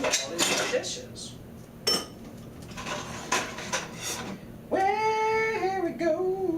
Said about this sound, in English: What are we gonna do with all these dishes?